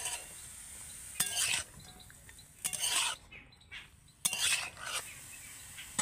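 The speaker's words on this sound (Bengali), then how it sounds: "এবার আমি ভালো করে নেড়ে চেড়ে নেব।" A spoon stirs vegetarian ash gourd curry with green chillies in a pan, three clattering bursts of scraping and clinks against the metal, close and fairly loud with quiet gaps between.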